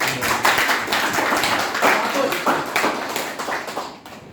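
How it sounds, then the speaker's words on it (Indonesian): Students in a military law college classroom clap together, a dense run of sharp hand claps sustained near and loud for several seconds before tapering off at the end. "Baik, tepuk tangan."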